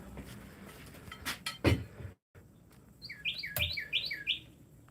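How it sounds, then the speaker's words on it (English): A male cardinal calls in a backyard, giving a quick run of repeated bright chirps in the second half after a few knocks and clinks, fairly faint against quiet outdoor background. "At least I think that's a male cardinal."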